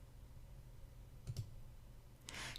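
A computer mouse gives a quick double click, faint and close, with a brief rustle afterward in a quiet room.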